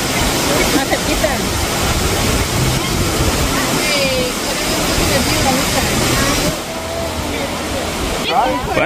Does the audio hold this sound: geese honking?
no